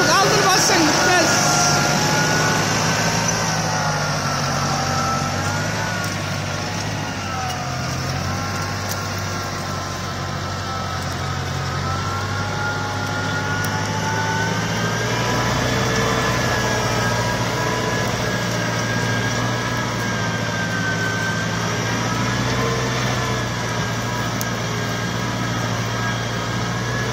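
Deutz tractor engine running steadily throughout, a loud continuous low drone with a constant hum, people talking over it at times.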